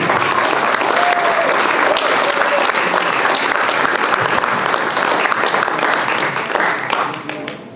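Sustained, loud audience applause at a high school alumni club event, greeting a 1983 graduate being introduced, with dense clapping and some crowd voices that taper off near the end.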